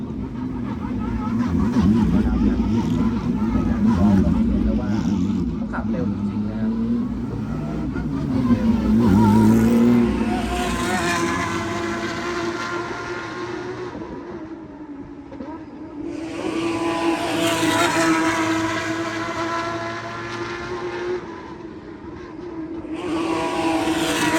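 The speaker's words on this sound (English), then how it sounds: "These Porsche GT3 cars sound insane." Porsche GT3 Cup race cars of the Asia Cup series roar down the front straight at a Thailand circuit, engines rising and falling as cars pass in waves, loud and close, with a brief lull between groups and a voice talking over them.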